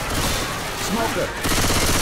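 Gunfire in the zombie shooter Left 4 Dead 2, a dense loud fusillade of rapid shots running under shouted voices, growing heavier in the final half second.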